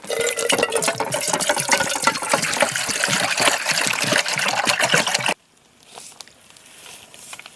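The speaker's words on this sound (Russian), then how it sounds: "кастрюлька, в которую сейчас наберу воды, закипячу ее, посолю" Water pours loudly and steadily into a cooking pot at a riverside campsite for about five seconds, then stops abruptly, leaving faint trickling and quiet surroundings.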